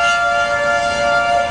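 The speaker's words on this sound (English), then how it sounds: "So we got tornado sirens." Tornado sirens sounding in a city during a severe storm with a funnel cloud nearby, a loud steady wailing tone held throughout, with no voices.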